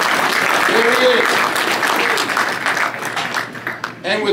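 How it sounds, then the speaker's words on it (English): Audience applause at the LaborPress 2022 Annual Leadership Awards, a steady wash of clapping from a crowd honoring Joe, loud and continuous with a voice talking over it. "Give Joe a tremendous round of applause"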